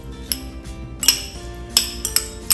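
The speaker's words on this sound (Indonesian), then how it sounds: "Aduk rata." Chopped shallot, kaffir lime leaves, lemongrass stalks, small chilies and tomato being stirred in a bowl, with a series of sharp clinks of a utensil against the bowl at irregular intervals, close and clear.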